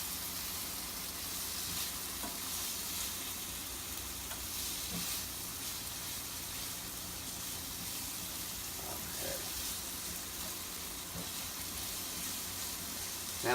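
Rice being stirred and fried to coat in a pan for arroz con pollo. A soft, even sizzle runs throughout, with faint scraping from stirring.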